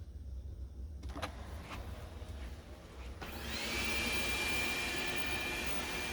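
A robot vacuum cleaner begins a mopping run, its motor rising after a few seconds from quiet clicks into a steady, loud whir that holds with a thin high whine.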